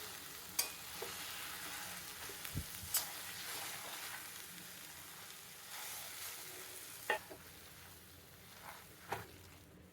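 Potato and onion masala for masala dosa sizzles steadily in a hot pan, with soft scattered taps and scrapes as it is mashed and stirred, close and fairly quiet with no talking.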